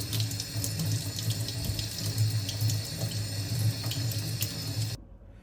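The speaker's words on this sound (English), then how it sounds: "So I'm gonna wash an organic orange so I can put the orange peel inside of the rice water." Kitchen tap runs steadily while an organic orange is washed under it, a close, continuous water stream that cuts off abruptly near the end.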